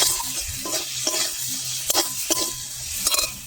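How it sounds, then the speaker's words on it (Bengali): A spatula stirs a spice mix of green chillies and chilli powder frying in a pan, giving a close, crackling sizzle broken by repeated scraping and clinking strokes. "ফের আমি নেড়ে চেড়ে নেব"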